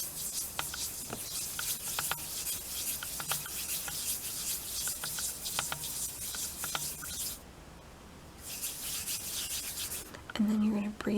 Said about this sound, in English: You're gonna rub your hands together.